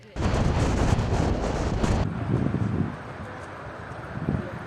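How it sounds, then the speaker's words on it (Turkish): Strong storm wind roars and buffets the microphone at a tent camp in Hatay, Turkey, loud and broadband at first, then easing into a lower rumbling gust. "şiddetli rüzgarda onlarca çadır yıkılırken"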